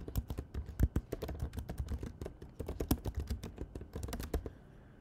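Rapid typing on a computer keyboard, a steady close-up stream of crisp key clicks for several seconds before stopping, with no voice over it.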